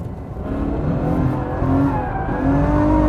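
A Ferrari F12 accelerates hard in fourth gear through a left-hand corner, its V12 engine note rising steadily in a loud, continuous, strained roar, with no voices.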